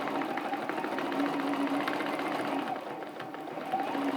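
A sewing machine runs steadily throughout, stitching pebble-pattern machine quilting through a spinning-sun quilt block, with a continuous mid-pitched motor hum and rapid needle clatter and no breaks.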